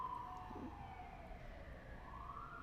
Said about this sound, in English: The ambulance is going to go get them